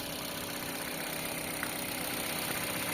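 A 2024 Mitsubishi Xpander with about 134,000 km settles into a smooth, even idle, a steady close engine hum with faint vibration and no voices over it.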